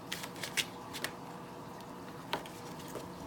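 Tarot cards being shuffled close by, a soft papery riffle of scattered quick flutters and taps that swells a few times and fades, with no talking.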